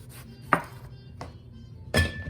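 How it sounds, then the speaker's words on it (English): Knife trimming both ends off an eggplant on a cutting board: three separate sharp chops, spaced about half a second to a second apart, close and clear against a quiet background. "I'm going to cut off both ends here."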